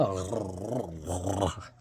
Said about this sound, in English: That's like a chihuahua, but like angry a little.